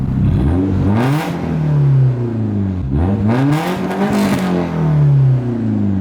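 Close and loud, a Nissan 240 with a new Autozone blastpipe exhaust revs up twice, each climb dropping back before rising again, with a rough burbling tone in between.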